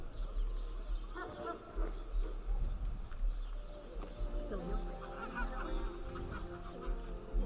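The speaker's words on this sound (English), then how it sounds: "A red chicken." Game animal calls from a red chicken in Divinity: Original Sin, honking and clucking bird sounds layered over steady background music and ambience, continuous and moderately loud throughout.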